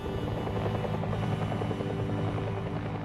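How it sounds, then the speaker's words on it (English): A Huey military helicopter flies with a loud, steady rotor thump and engine drone, continuous and close for the whole stretch with no talk. "Huey was a fantastic machine."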